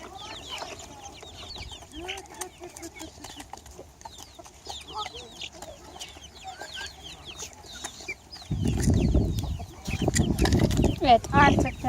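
Chickens cluck and chatter in a farm's poultry section, a busy flock of repeated short calls, with louder bursts of nearby noise toward the end and voices faintly in the background.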